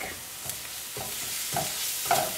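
Onions with ginger and garlic sauté for keto kadhai paneer. A constant sizzle runs under four or five distinct scraping strokes of a spoon across the pan, close and moderately loud.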